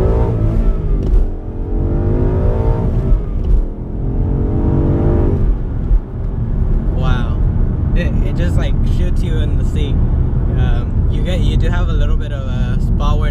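A 2015 Ford Mustang GT Performance Pack V8 accelerating hard, its engine note rising loud and close through the gears in one sustained pull, with someone talking over it.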